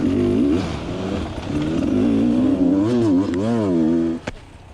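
A Beta 300RR two-stroke trail motorcycle engine revs up and down in loud, close bursts with rising and falling pitch, then cuts off sharply near the end.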